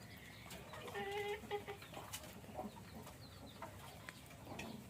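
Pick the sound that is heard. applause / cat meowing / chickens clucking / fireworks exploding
chickens clucking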